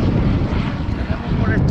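A helicopter flying over a wildfire gives off a loud, steady rotor and engine roar, with wind buffeting the microphone and a voice talking over it.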